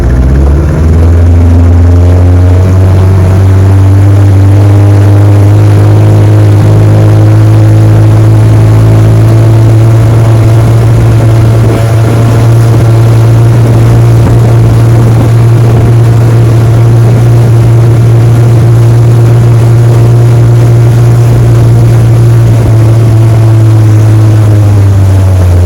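A 1966 Johnson 9.5 horsepower outboard motor runs steadily and loudly up close, a continuous low droning hum with a buzzy edge that holds even throughout, with no talking.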